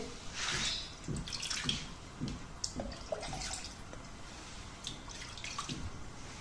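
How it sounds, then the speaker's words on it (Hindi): Water pours and splashes into a mixing bowl for jalebi batter in uneven gushes, close and fairly quiet, with no talking. "अब इसमें पानी डालेंगे।"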